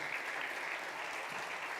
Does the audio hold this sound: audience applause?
yes